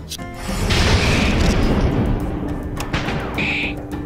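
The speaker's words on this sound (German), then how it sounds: "Wie gefällt euch denn ein Schuss aus der Pistole?" A single booming pistol shot in the game The Amber Throne blasts out with a rumbling tail that fades over a couple of seconds, followed by faint electronic game sounds.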